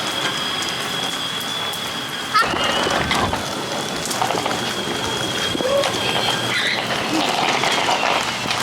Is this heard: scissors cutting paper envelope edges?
no